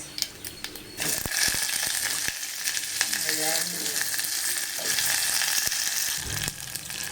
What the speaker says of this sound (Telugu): కొంచెం ఆయిల్ వేసి పోపులు అయితే వేసేసాము